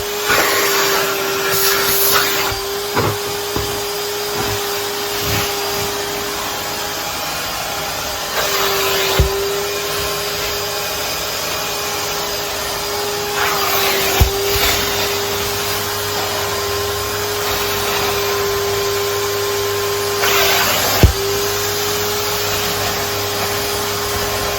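A 2024 Numatic George vacuum cleaner, fitted with a spot clean sprayer attachment, runs steadily with a loud, constant motor hum and whine while cleaning a rug, broken by a few brief knocks and surges.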